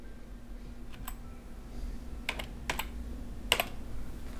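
Typing on a QWERTY computer keyboard at a Mac Pro, scattered sharp key clicks in small bursts over a faint steady hum.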